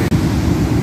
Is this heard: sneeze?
no